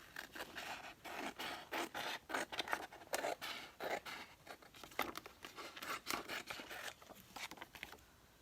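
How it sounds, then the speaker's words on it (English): Scissors trimming around the edge of paper for a kintsugi house craft piece: a rapid run of crisp snips and crinkly rustles, close and fairly quiet, with no talking. "So now I'm just going to trim around the edge here."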